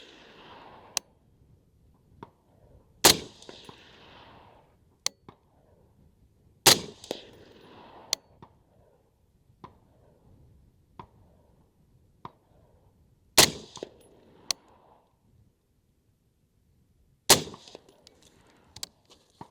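Single gunshots from a semi-automatic rifle fitted with a Griffin Armament PSR 7 suppressor, sharp muffled cracks spaced several seconds apart with short decaying tails, moderately loud and alone.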